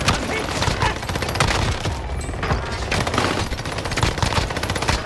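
Minigun fire in a video game, a dense, continuous stream of rapid shots that stays loud and unbroken for the full stretch, like a long sustained burst close at hand.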